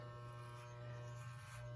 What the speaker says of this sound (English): slowly pull the clippers away from yourself